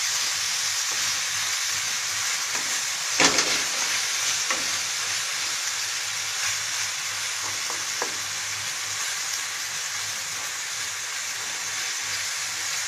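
Meat for shawarma sizzles and fries in a pan, a steady bright hiss with occasional clinks and scrapes of stirring, close by and without talk.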